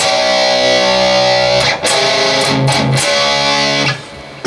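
A heavily distorted electric guitar chugs through a riff, with sustained chords broken by short palm-muted stabs and rests, loud and close.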